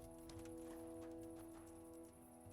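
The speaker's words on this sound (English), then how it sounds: "Why is there a horse here?" Faint hoof clip-clops of a horse in the medieval video game Kingdom Come: Deliverance tap out a loose walking rhythm beneath a steady, quiet tonal music bed.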